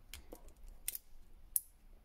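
A few small, sharp metallic clicks sound close by, with a quiet pause between them, as the bracelet clasp of a Huawei Watch GT3 snaps shut.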